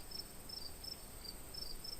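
Crickets chirping at night at the edge of a forest near midnight: a regular series of high, short chirps repeating about every third of a second over a steady background hiss, with no voices.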